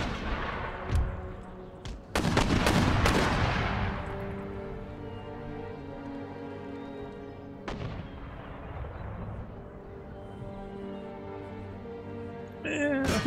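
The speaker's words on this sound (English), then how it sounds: "field artillery to keep dropping shells on the breach here" Field artillery and mortar shells pound a breach in an Empire Total War siege, with sharp loud cannon reports near the start and middle, each followed by a long rumbling decay under ongoing battle ambience.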